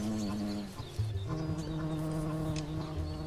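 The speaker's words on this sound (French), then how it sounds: "attire les derniers frelons de la colonie." European hornets buzz close by as they feed on ripe, slightly fermented grapes at season's end, a steady droning hum with shifting pitch as individual insects move about, no voices.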